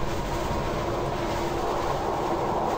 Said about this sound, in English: that the wind kicked up real hard.